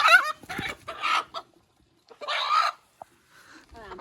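A rooster clucks close by in a series of short, throaty bursts separated by brief pauses, a lone sharp cluck in between, and a few quieter calls trailing at the end.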